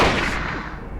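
A single rifle shot in the horror game Silent Hill, a loud booming report that decays into a rumbling tail over about a second, with no one talking.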